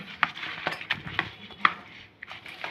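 Salt, turmeric and masala being mixed onto bangda (mackerel) fish in a dish, giving light clinks and scrapes of a spoon against the dish in an irregular rhythm, fairly close and quiet, with no talk.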